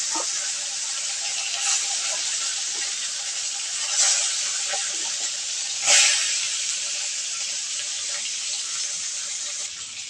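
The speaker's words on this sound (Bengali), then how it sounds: "এবার আমি লবণ এবং হলুদ দিয়ে কই মাছগুলো ভেজে নেব একে একে আমি সবগুলো মাছ ভেজে নেব" Koi fish frying one by one in white oil with salt and turmeric in a wok, a steady close hiss of sizzling with brief louder spits and crackles throughout, no voices.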